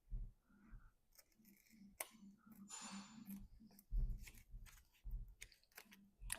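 Scissors snipping paper for a reverse collage, a series of close, crisp cuts in uneven bursts with short pauses between them.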